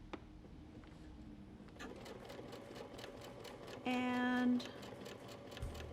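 Sewing machine running at medium speed, stitching fabric while quilting with rulers, a fast even rattle of needle strokes, close and fairly quiet, with a brief whirring tone partway through.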